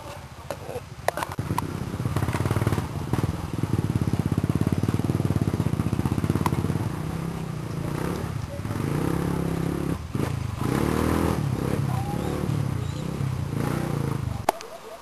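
A trail motorcycle engine labors and revs unevenly nearby at a trail race site, dipping and surging as it strains over rough ground, with occasional scrapes and faint voices.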